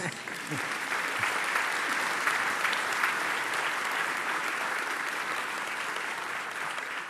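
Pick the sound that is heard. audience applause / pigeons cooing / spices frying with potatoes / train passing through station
audience applause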